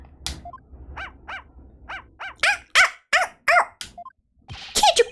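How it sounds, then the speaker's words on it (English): A small dog barks in the Phoenix Wright: Ace Attorney - Spirit of Justice video game, a run of sharp, close yaps in quick uneven bursts interleaved with short synthesized game blips. "Can't you quiet that yappy mutt down?"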